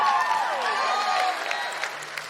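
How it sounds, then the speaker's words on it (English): A live theatre audience at a show in Auckland breaks into sustained, dense applause with scattered cheers and whistles, loud and steady throughout, easing slightly toward the end. "could we have a big round of applause?"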